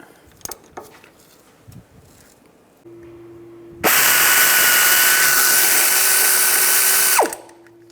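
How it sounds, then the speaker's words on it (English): A ratchet fitted with a 13mm socket works the knuckle bolts on a 2007-2013 Mini Cooper during a front wheel bearing hub job. A few light clicks and taps come first, then a loud, sustained whirring mechanical run of about three seconds close by. "On the back side of the knuckle, there's 4 bolts. We want to take those off. Use a 13mm socket."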